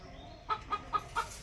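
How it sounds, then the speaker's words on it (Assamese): Backyard hens kept for eggs give four short clucks in an even rhythm, close and fairly soft over a quiet background. "এইবিলাক মোৰ মুৰ্গী চাওক"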